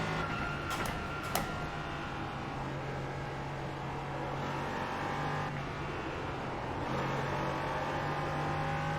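A car driven hard around corners, its engine note rising and falling steadily over a constant loud road and cabin drone, with a few brief sharp knocks near the start.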